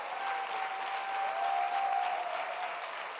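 Church congregation applauding steadily and continuously, a dense wash of many hands clapping throughout with no speech over it.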